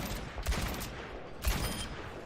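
Ashe's rifle in the Overwatch video game firing two sharp, loud shots about a second apart, each a broadband crack with a low thump, over steady game background noise.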